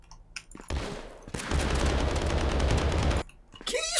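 Rapid automatic gunfire from a gun in a Landfall prototype video game rattles in a sustained burst of a couple of seconds, loud and close, framed by brief quieter moments.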